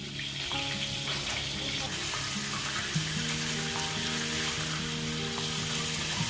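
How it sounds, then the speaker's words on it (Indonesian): Coconut milk with pandan leaves, lemongrass and citrus simmering in a pot while being stirred, a steady bubbling sizzle with continuous wet churning, close by, under faint background music. "Jadi selama direbus santan itu harus diaduk-aduk."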